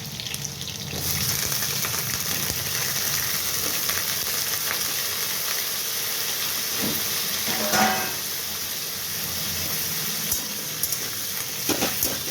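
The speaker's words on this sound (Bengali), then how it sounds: "আমি আলু পটল একসঙ্গে দিয়ে এরপরে একটু ভাজা ভাজা হোক" Potatoes and pointed gourd fry together in a covered pan for a vegetarian curry, giving a steady, close sizzle that runs throughout with faint stirring clinks and no talk.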